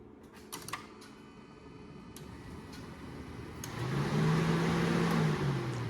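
An electric car cooling fan runs with the key on. A few faint ticks and clicks come first, then a whooshing hum spins up and holds steady close by.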